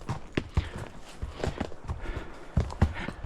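A mare's hooves clip-clop at a steady walk along the edge of a field, the footfalls close and distinct with a little rustle between strikes.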